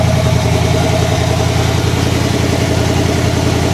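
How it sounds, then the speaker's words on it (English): A 1958 Apache truck engine runs steadily after a simple tune-up, a loud, close, continuous idle rumble with no breaks or talking. "5 minutes sitting there listening to me rev an engine has got to be annoying."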